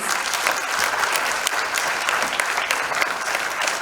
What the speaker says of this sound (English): Ladies and gentlemen, a huge round of applause for all our awardees.